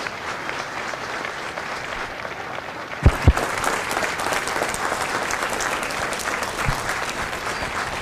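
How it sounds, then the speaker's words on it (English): A graduation crowd at MCRD San Diego applauds Marine veterans standing for their service, with broad continuous clapping and a couple of sharp louder claps near the middle. "Ladies and gentlemen, a round of applause for their dedicated service to Corps and country"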